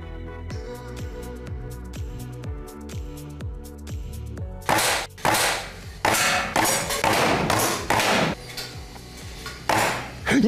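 Pellet shots strike targets at a moving shooting gallery, a run of sharp metallic clanks and knocks at irregular intervals that follows a quieter stretch of soft mechanical ticking.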